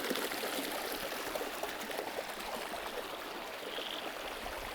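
Water squeezed from a bottle through a Sawyer filter runs in a steady, close hissing stream for several seconds with no talk.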